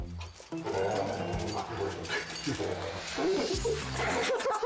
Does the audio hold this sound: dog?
yes